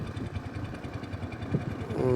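A motorboat engine chugs steadily through a pleasure trip on calm water, its low rhythmic drone continuous and moderately close, with a brief tonal hum rising near the end.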